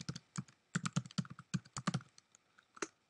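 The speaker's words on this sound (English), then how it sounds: "I'm going to simply start typing a web address" Typing on a Mac computer keyboard while entering a web address, a quick run of crisp, close key clicks in uneven bursts, fading to a few scattered taps.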